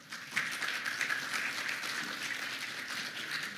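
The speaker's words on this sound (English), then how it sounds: "A round of applause to our incredible speakers and moderator" An audience applauds after a forum discussion, with a short, fairly faint burst of steady clapping.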